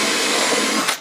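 A drill bores and countersinks wood for a handmade Christmas lantern: one short, loud, close whir of about a second that swells briefly before stopping abruptly.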